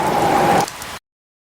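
Rain falls in an animated children's story, a loud, close hiss of drops lasting under a second with a brief tonal whine, then cut to silence.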